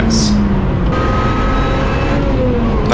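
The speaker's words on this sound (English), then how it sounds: "The car manages to accelerate to a 222 km/h Vmax." A Lotus Exige S at speed on the Spa-Francorchamps circuit, its engine a steady, loud drone with rising tonal whine as it accelerates toward top speed, continuous and close throughout.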